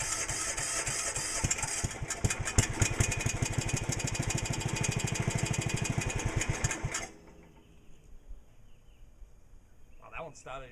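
A Sears garden tractor engine cranks and catches, running loud with a rapid chugging beat for about seven seconds before cutting to quiet, with faint clatter near the end.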